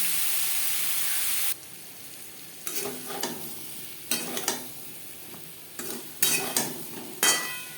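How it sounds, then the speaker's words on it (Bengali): Pointed gourd (potol) frying with turmeric gives a loud, broad sizzling hiss that suddenly drops away, followed by repeated close scrapes and clanks of a spatula stirring in the pan. "হলুদের গুঁড়ো পটল হালকা করে ভেজে নেব"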